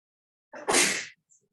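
A single sharp human sneeze, close and fairly loud, with a brief intake of breath just before it, during a quiet guided yoga session.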